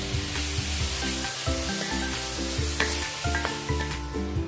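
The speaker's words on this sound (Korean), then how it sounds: "썰어놓은 고기를 넣고 살짝 볶아주세요." Sliced beef sizzles and is stirred in sesame oil in a hot pot, a steady frying hiss punctuated by rhythmic scraping and clinking of the utensil, close up with no speech.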